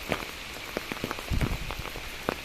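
Heavy rain pours down steadily in a broad, dense hiss, with close raindrops pattering and splashing on surfaces throughout and no voices.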